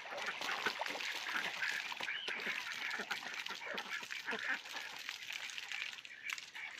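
Ducks splash in a backyard pool, giving a dense, continuous wash of loud water splashing and flapping with scattered honking calls close by; a voice speaks briefly over the commotion.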